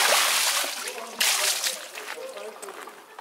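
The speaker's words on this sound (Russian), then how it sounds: "Ведро воды будет быстрее." A bucket of water splashes over a car wheel to rinse off cleaning foam, a loud broad wash at the start and a second surge near the middle, then fading trickle and slosh.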